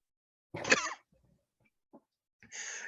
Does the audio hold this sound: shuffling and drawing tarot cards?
no